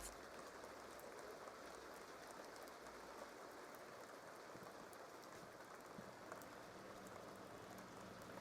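Steady rain falling outdoors, a continuous soft hiss of drops on surfaces, faint and unbroken with no voices.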